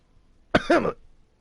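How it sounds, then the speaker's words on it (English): A single soft, short throat clearing in an otherwise quiet room, close and alone. "I clear my throat softly"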